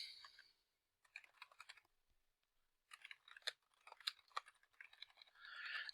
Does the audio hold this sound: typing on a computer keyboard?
yes